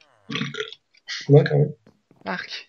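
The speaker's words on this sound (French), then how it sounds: "t'as roté" A short, loud burp from a person in the middle of casual French chatter between players of a Minecraft game, with voices talking before and after it.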